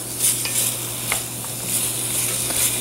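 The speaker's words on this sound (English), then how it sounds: "We're just going to let this go until the beef is browned" Beef browns in a pot for stew, giving a steady low sizzle with faint stirring scrapes now and then, moderately loud and close, with no voices.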